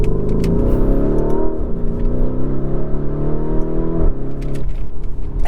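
Lamborghini Urus SUV accelerating hard, a loud, continuous engine roar with rising harmonics that climb steadily, dip briefly around a gear change, then build again, with no talk over it.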